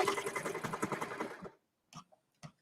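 Sewing machine stitching the edges of a cozy cardigan, right sides together: a steady rapid mechanical chatter for about a second and a half, then stopping, followed by two short separate clicks or thumps.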